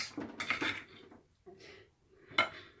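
Knife and utensils clatter against a plate while cutting hot air-fried garlic parmesan chicken quarter legs, a few sharp clinks and scrapes in short bursts with quiet gaps.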